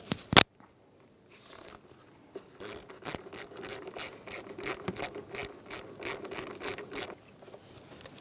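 A hand ratchet tightens a part during AC condenser and receiver drier replacement on a 2007-2017 Ford Expedition, a close, loud run of rapid metallic clicking strokes after a brief pause, with no talking.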